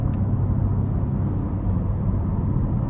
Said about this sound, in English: even in tour mode, it's still loud, the exhaust is.